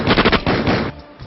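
A gunfire sound effect depicts shots fired at worshippers in a mosque: a loud, rapid burst of several automatic shots lasting under a second, then a fading echoing tail.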